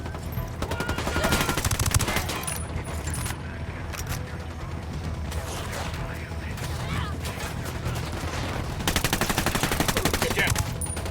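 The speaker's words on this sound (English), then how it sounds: "the dad's firing on the cartel" Heavy automatic gunfire from a cartel firefight in Ghost Recon Wildlands, dense overlapping bursts and rattling volleys continuing throughout, with some voices mixed in under the shooting.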